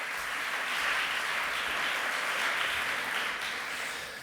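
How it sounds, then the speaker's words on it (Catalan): Applause at the closing gala of the Brain Film Fest, a broad wash of clapping from a theatre audience, even and sustained, heard from a distance at moderate level. "us vull fer aquest aplaudiment"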